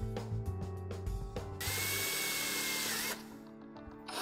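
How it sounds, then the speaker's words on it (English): Power drill boring a small hole in the top of an electronics enclosure: short whirring bursts and clicks, then a sustained, louder high-pitched grind for about a second and a half before it stops, close up with no talk. "We're gonna drill a small hole in the top"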